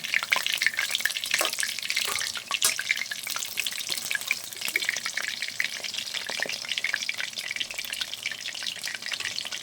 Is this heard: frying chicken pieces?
yes